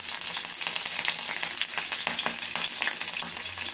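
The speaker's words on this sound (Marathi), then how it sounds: "चांगलं तापलं की आपल्याला त्याच्यामध्ये फोडणीला आपल्याला जिरं टाकायचं आहे" Cumin, crushed garlic, green chilli and curry leaves spluttering in hot oil for a tempering, with dense crackling and popping that runs on steadily up close and no voices.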